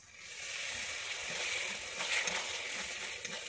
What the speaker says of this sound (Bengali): আমি এর মধ্যে দিয়ে দিচ্ছি সামান্য পরিমাণে জল।